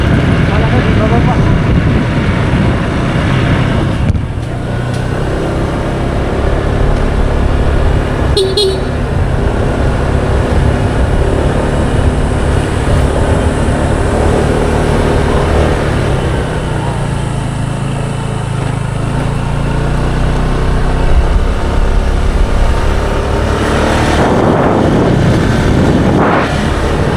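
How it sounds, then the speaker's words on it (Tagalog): Busy road traffic rumbles loud and near, with engines droning and short car horn toots breaking through now and then, while voices talk over the noise. "Traffic guys, traffic."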